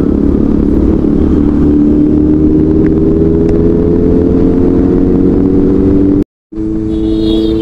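Several motorcycles, including a Pulsar, Duke, R15, CBR, ZMR and a Continental GT 650, ride together on an open road, their engines a loud continuous drone with steady harmonic tones and a brief cut near the end.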